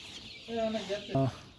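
Layer hens cluck close by in two short bursts, each a clear tonal call over a quiet background hiss.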